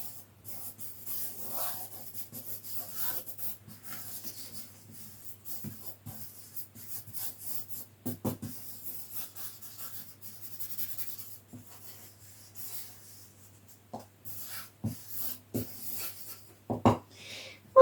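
A pencil scratches and rubs faintly on paper during automatic drawing, giving soft, irregular strokes with occasional sharper taps against a low steady hum.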